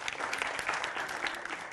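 A studio audience claps during a televised political debate show, a brief dense burst of applause at moderate level.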